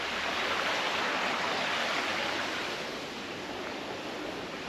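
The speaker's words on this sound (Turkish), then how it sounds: "Şarıl şarıl suyu akıyor." A village stream in Switzerland rushes continuously nearby in a steady, broadband roar, with no breaks or voices.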